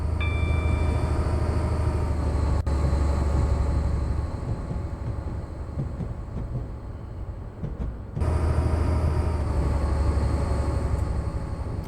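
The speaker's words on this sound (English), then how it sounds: "Oh, see, now that's a proper sounding train." A train runs steadily in Train Simulator 20 on the route from Dundee to Edinburgh, its loud, constant rumble and low drone filling the space with no talk, dipping briefly in the middle before surging back.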